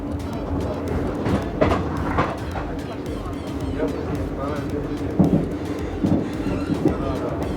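Interior of a moving passenger train from Srinagar to Banihal in Kashmir, with a steady low rumble of the coach, occasional knocks and clatter of wheels, and voices talking over it.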